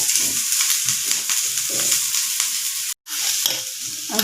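Steady loud sizzling from a pan where green chillies and onion fry for an omelette, with soft stirring and scraping textures, briefly cutting out for a moment before resuming.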